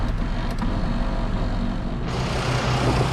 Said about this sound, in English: That grinding, rattling noise is normal, so this is okay here